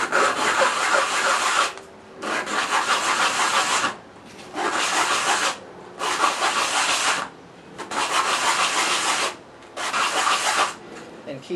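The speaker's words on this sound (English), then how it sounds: "Make sure you do this on a flat surface and just start sanding. Press it down and go in circles." A BB8 droid lens being sanded in circles on a flat surface, loud gritty rubbing strokes in six bursts of about a second and a half each, separated by short pauses.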